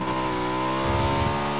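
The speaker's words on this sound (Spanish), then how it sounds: "viene una combi atrás de nosotros" A van engine approaching from behind in PUBG on the Miramar map, a steady mid-loud motor hum with harmonic whine that swells slightly as it nears, with no talking.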